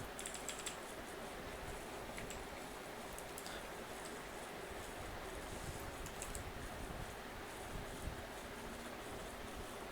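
Keys on a computer keyboard clatter in a steady, quiet stream of small clicks, faint and continuous with no voices.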